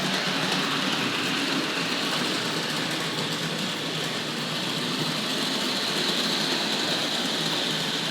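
A Tri-ang / Hornby Dublo model train runs along a home layout, giving off a steady, even rolling whir and hiss that continues loudly and unbroken throughout, with no talk.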